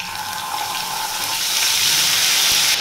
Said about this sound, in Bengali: এবার আমি এখানে দিয়ে দিচ্ছি আদা বাটা।